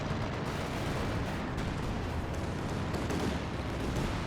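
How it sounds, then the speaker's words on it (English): Artillery barrages pound a Company of Heroes 2 battlefield, a dense continuous roar of distant gunfire and blasts rumbling steadily without pause. "Artillery still coming down."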